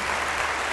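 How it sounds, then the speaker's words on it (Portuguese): Crowd applause at an evangelical gathering, a brief, steady, dense wash of many hands clapping with no breaks. "um aplauso para Chile"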